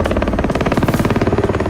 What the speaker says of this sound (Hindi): आसमान में हेलीकॉप्टर